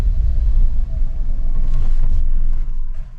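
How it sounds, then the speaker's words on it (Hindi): A petrol car's engine idles with a steady low rumble, then cuts out through its eco-idle stop system; the hum holds nearly throughout before easing off toward the end, with no talk. "ये देखिए गाड़ी बंद हो गई है इस वक्त"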